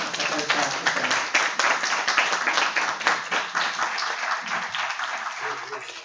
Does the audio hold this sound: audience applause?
yes